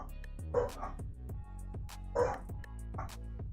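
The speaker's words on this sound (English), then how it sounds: "I'm gonna see what my dogs are barking at because they're going nuts." Pet dogs barking and yipping indoors, two or three sharp bursts spaced across a few seconds, moderately near, with a faint whine between barks.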